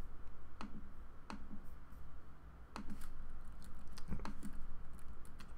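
Several sharp, isolated arrow-key clicks on a computer keyboard spaced a second or so apart, close by, over a soft steady background hiss.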